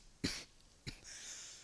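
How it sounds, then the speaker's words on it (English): Two short, sharp coughs about half a second apart from a man playing a Black Ops 3 match, the first stronger, followed by a faint hiss of game sound. "For some reason, I'm starting to cough."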